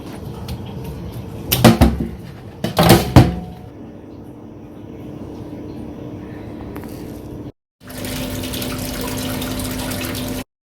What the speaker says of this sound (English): empty the water.